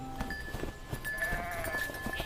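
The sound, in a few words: goats bleating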